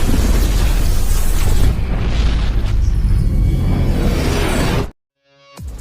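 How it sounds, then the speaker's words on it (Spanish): A massive, roaring explosion with a rushing whoosh fills the space, then cuts to sudden silence before a faint rumble returns. "con una super explosión aniquila a los demonios"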